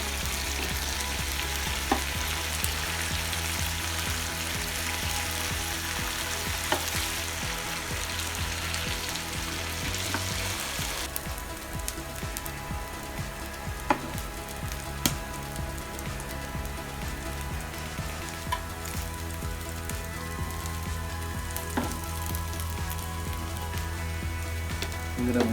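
Meats and seafood frying on a grill, a continuous hissing sizzle with scattered pops and crackles, close and steady, a low hum underneath.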